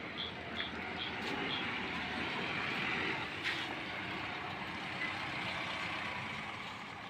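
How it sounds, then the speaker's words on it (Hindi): Vehicles approach on a dark, quiet mountain road at night, a steady low engine rumble building and holding at moderate distance, with faint high squeaks above it. "गाड़ियाँ तो आ रही हैं"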